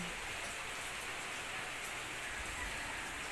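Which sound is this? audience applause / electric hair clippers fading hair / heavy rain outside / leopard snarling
heavy rain outside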